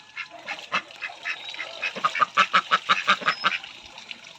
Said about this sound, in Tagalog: Naliligo ang ating mga piso.